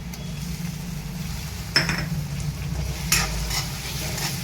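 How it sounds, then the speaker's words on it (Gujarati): Onions and tomatoes sautéing in a pan for a Gujarati vaseti bhaji, giving a steady close sizzle with two brief clinks of a utensil against the pan. "કાંદાને આપણે બ્રાઉન કલરના ન થાય ત્યાં સુધી આપણે સાતળી લઈશું"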